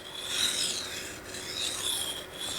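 A steel blade is sharpened on a Naniwa Superstone 400 grit water stone, giving steady bright rasping strokes under moderate pressure, each stroke rising and falling in a repeating rhythm, close and clear with no talking.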